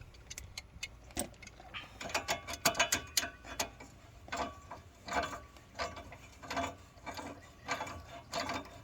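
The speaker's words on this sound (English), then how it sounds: "you make sure you screw it to where it's nice and tight, nice and snug" A ratchet tightens a part on the front end of a 2005 Chevy Tahoe, producing quick bursts of close, crisp clicking in repeated strokes with short pauses between them, no talking.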